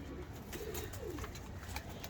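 Old pigeons cooing softly in a loft, low rolling coos repeating faintly against background noise.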